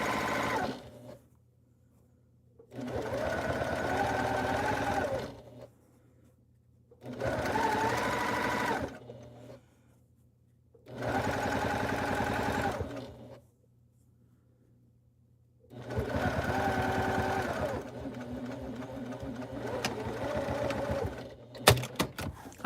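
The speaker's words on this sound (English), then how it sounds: "Couple stitches back stitching, and then all the way across." Sewing machine stitching a tote bag seam with back stitches, four separate bursts of steady humming and whirring needle chatter, separated by quiet pauses, heard up close.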